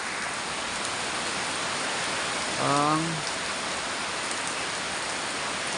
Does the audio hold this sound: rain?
yes